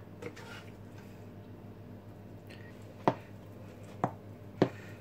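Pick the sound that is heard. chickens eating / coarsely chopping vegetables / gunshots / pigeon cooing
coarsely chopping vegetables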